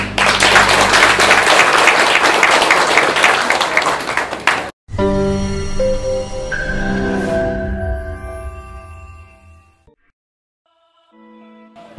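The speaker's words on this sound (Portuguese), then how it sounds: "Merece palmas." A crowd at a Street Sweepers' Day ceremony in Moju, Brazil, applauds the vice-mayor with loud, dense clapping for about five seconds, which breaks off abruptly and gives way to tonal music that fades to near silence.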